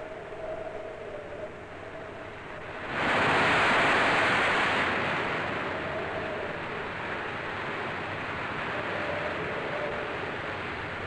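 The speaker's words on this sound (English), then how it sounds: "It was really getting rough and windy now" Rough, windy sea churns with a steady noisy roar around an ocean liner, one big wave surge swelling loudly then settling back into constant choppy wash.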